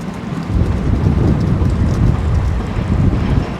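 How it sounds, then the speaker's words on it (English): Strong winter wind roars and buffets a nearby microphone near Dingman's Access, a steady loud low rumble with gusty fluctuations and no talking. "Very, very windy."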